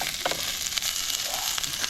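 Onions with a little oil and a pinch of salt sizzle in a hot pan, a close, steady crackling hiss with faint stirring and no voices.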